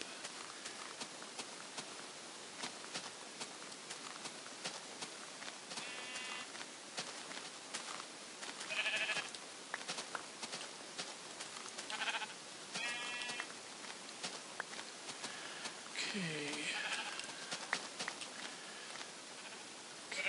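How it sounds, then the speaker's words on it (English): Sheep in Minecraft bleat several times over a busy background of game noise and soft footstep-like clicks, the wavering calls spaced irregularly across the scene, with no talking. "More sheep."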